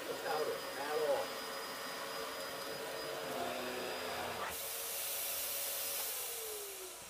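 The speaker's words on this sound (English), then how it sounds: "this is the hoover on the lowest carpet setting" A Hoover vacuum cleaner running on its lowest carpet setting gives a steady, close motor whine with a broad airy hiss, which brightens partway through, after a few faint sounds at the start.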